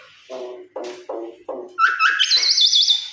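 A pet myna bird calls up close: four short nasal squawks in a quick series, then a longer run of bright warbling whistles. No one speaks.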